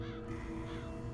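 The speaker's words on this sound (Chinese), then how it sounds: "这到底是鸽子的声音还是人的声音呢？" A pigeon's harsh, crow-like cry in the horror RPG game Yokai Mask, a sustained eerie call sounding over a low background drone.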